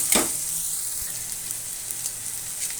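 Onions sautéing in a pan for a cabbage and chana dal gravy, a steady close sizzle with a brief stir or scrape near the start, continuing alone without talk.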